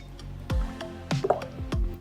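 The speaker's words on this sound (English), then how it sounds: "We add the salt and oil." Salt and oil go into a pot of water for a green onion dish, giving a few soft liquid drips and squishy plops spaced about half a second apart, close and fairly quiet.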